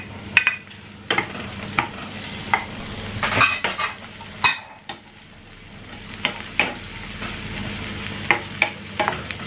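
Chopped onions sizzle in hot oil with garlic in a pan while a utensil stirs them, a steady frying hiss broken by repeated sharp scrapes and taps, close and clear with no talking.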